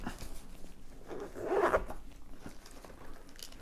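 Zipper on a small red motorcycle first aid kit bag is pulled open in one quick close rasp, quiet overall with faint handling noise before and after.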